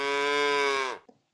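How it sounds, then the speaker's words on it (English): A cow gives a single long, close moo that holds steady for about a second, then cuts off, followed by a brief faint knock and silence. "it's a cow"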